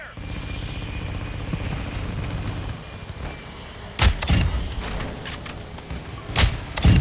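Gunfire and artillery in a military shooter game. A rumbling battle din runs throughout, broken from about four seconds by sharp, loud gunshot cracks and booms, some close together. A voice may be heard in the mix.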